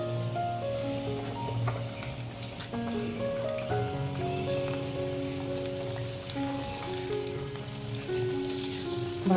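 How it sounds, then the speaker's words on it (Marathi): Homemade Vidarbha-style rice papad, salted, frying in hot oil, giving a steady crackling sizzle with fine popping bubbles that runs continuously at close range with no voices over it. "तर आपलं हे तेल तापलेलं आहे आणि मी तुम्हाला तळून दाखवते की पापडा कसा होतो"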